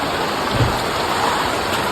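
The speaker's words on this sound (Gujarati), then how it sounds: "ને અત્યારે વરસાદ આવે ભૂકા કાઢ નાખે વાહ પવન એવો હે" Heavy rain driven by strong wind makes a loud, close, unbroken roar of water that fills the whole stretch, with no voices.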